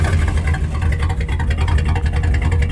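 A 1976 Ford F150 pickup engine with dual exhaust turns over and settles into a loud, steady rumbling idle close by, with a deep low throb and no talking.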